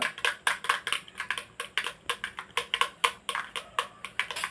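A spoon stirring an omelette mixture of egg with vegetables, chili, onion, mint, chili powder and salt, making quick rhythmic clinks against the bowl, about four strokes a second, close and steady with no speech.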